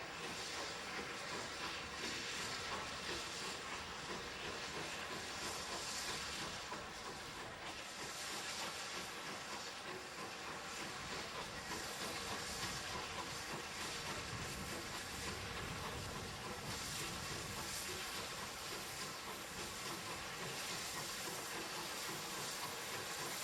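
A rebuilt West Country Pacific steam locomotive chuffs and hisses steadily as it pulls a train away from a station on the North Yorkshire Moors Railway, with a continuous rumble and faint rhythmic clatter of wheels, heard from nearby.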